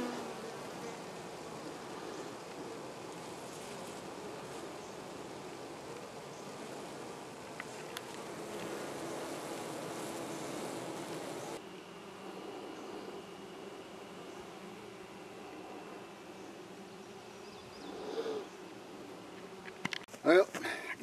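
Honey bees buzz around freshly moved hives outdoors in a faint, continuous hum with light wind, ending in a few brief knocks and rustles.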